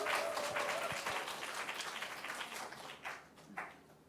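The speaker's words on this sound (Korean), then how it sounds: "다시 한번 큰 박수 부탁드립니다." Quiet audience applause at an ocarina concert, many hands clapping in a soft, continuous patter heard from a distance, thinning out toward the end with a few lingering claps.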